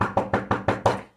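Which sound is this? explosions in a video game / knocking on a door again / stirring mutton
knocking on a door again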